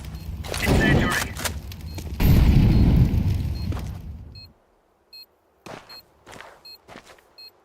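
An incendiary grenade in Counter-Strike 2 goes off as a loud burst of booming blasts and roaring fire, which then cuts out and leaves a few short beeps and clicks.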